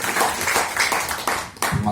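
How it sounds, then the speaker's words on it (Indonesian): Crowd applause after a badminton umpire exam ceremony in Papua Barat Daya, a steady wash of clapping lasting the whole moment with voices mixed in. "Sekali lagi kita beri tepuk tangan dan aplaus yang besar buat Bapak Nelson"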